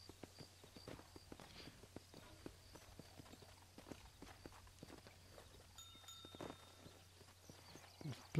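Horse hooves clip-clop steadily in Red Dead Redemption, a run of crisp, evenly spaced hoofbeats on hard ground, fairly quiet against a low hum.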